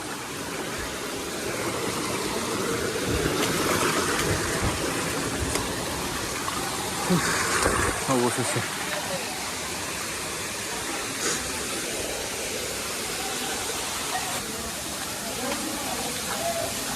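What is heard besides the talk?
Napittachora fourth waterfall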